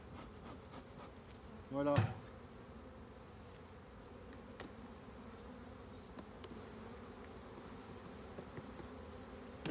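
Black honeybees buzz in a soft, steady drone around an opened Dadant hive, with a brief thump and a single short spoken word early on.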